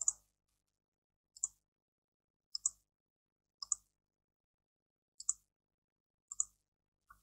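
A computer keyboard typing a command, sparse isolated key clicks in small clusters about once a second, close and quiet against silence.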